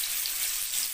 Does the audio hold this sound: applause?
no